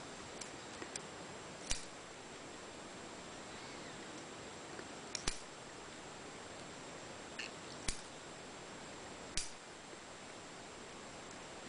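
Scissors snip small pieces from an elastic part for an RF toroid holder, a handful of sharp, isolated clicks spaced a few seconds apart over a quiet, hissy background.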